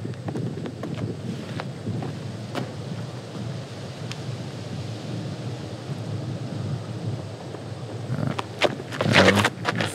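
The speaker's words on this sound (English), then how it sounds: "The wind's definitely a factor here, it sounds like." Wind sweeps across a disc golf course at the Lake Superior Open, a steady broadband rush buffeting the microphone, swelling into stronger gusts toward the end.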